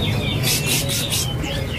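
A songbird gives a rapid series of bright, high chirps close by, repeating in quick pulses over a steady background hum.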